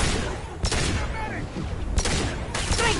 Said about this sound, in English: Great shooting!